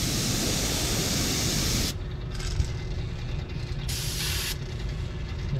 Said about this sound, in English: It's spraying, okay.